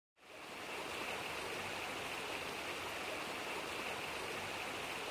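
A river or waterfall in a wet region of western Russia near the Black Sea sends up a steady, dense rushing roar. It starts abruptly and then holds constant, with no voices.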